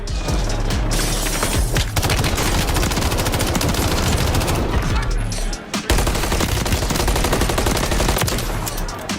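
Dense, sustained gunfire from a shooting video game, with rapid automatic bursts and booming shots filling the whole stretch, briefly cutting out twice before resuming at full loudness.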